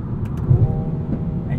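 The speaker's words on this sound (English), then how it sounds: "And you even get some pops in that mode, especially with the engine set to its most aggressive setting." Engine and exhaust of a 2020 Mercedes-AMG A35 Sedan while driving in its most aggressive engine setting with manual shifting, a steady low drone with a couple of brief sharp pops near the start.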